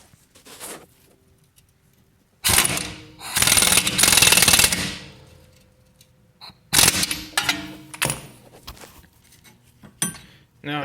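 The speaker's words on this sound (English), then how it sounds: "grab your ratchet or impact, and tighten up those 22mm nuts on the other side" Impact wrench tightening 22mm rear strut nuts on a Toyota Venza, heard as two loud, close rattling bursts of hammering with quieter clanks and handling noise between them, no talk.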